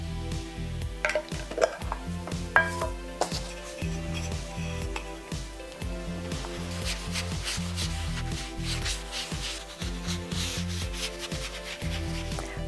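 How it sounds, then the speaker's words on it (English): Clear wax rubbed onto a chalk-painted book makes steady, close rubbing strokes in a repeating rhythm, with a couple of light knocks and no talk. "So I'm going to give it a coat of clear wax."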